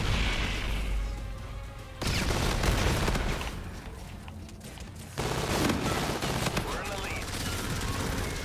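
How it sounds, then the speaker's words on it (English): Bursts of fully automatic assault rifle fire in Call of Duty Infinite Warfare, dense rapid gunfire in several loud stretches with brief lulls, mixed with booms and game noise. "there's a sniper in this game that can turn from a sniper to an assault rifle. Like a fully automatic assault rifle."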